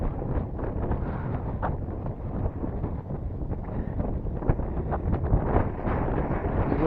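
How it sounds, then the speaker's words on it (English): Steady broadband wind buffeting on the microphone outdoors while flying a small modified Spirit glider in windy conditions, continuous and fairly loud throughout with no talk. "Yeah, it's pretty windy for this little thing."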